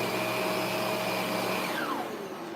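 A vacuum cleaner runs loud and close during a suction test with dirt, its steady motor whine dropping in pitch and fading as the motor winds down near the end.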